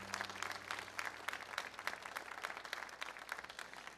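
Congregation applauding inside a church during a Sunday service, a steady wash of many hands clapping at moderate distance, faint and continuous with no voices over it.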